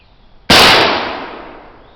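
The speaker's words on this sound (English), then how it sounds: "first shot went off good, no hesitation" A homemade musket cap fires a musket shot: one sharp, loud blast that cuts in abruptly, then rings and decays over about a second and a half with no voices.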